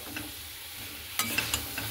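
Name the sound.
stirring fried potato with soybean curry in pan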